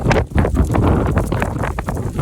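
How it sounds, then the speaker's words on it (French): Loud, gusty wind buffeting the microphone near the natural San Adrián tunnel, a continuous rumbling roar with brief surges and dips. "ça y est, le vent se lève"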